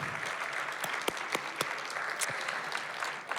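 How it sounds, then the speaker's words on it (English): Audience applause for sponsors and partners at an evening event in a library, a light, steady patter of many hands clapping, fairly distant and alone without talk. "would you please stand so we can give you a nice round of applause"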